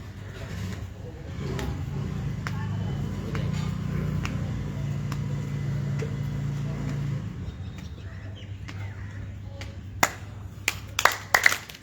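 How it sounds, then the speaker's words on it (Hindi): A group at a daily yoga session in Kanjurmarg, Mumbai, claps, with scattered sharp claps building into a few loud bursts near the end over a low hum and some voices. "जोर से ताली बजनी चाहिए"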